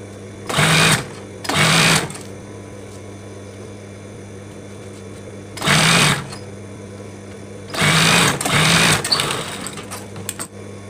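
A sewing machine stitches fabric for a mukena, a Muslim prayer garment, in several short close bursts of fast whirring separated by quiet pauses, ending with a few light clicks.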